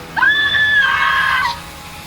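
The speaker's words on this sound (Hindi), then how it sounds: "जंगल में औरत की चीख गूंज उठी" A woman's high, sustained scream rings out in a forest at night, loud and close, wavering briefly before cutting off, with a faint echoing tail.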